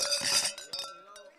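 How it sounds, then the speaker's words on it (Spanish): Wine glasses clink together in a toast at a Ribera del Duero wine fair in Sotillo, a few bright separate chinks ringing out over a brief burst of crowd noise, then fading. "Se juntan las copas y así suena el brindis."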